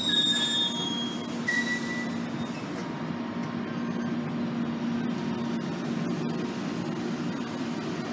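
A passenger train passes at a GO station, a steady rumbling roll of cars with high metallic wheel squeals at the start.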